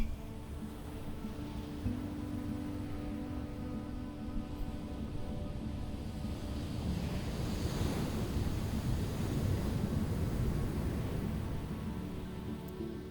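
Ocean surf rolls onto a beach at sunrise, a soft continuous wash with wind noise on the microphone, swelling gently toward the middle and easing off again.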